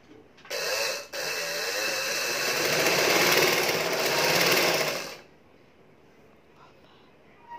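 A sewing machine stitches a kurti in one loud continuous run of about four and a half seconds after a short start and brief pause, then stops, leaving quiet room sound.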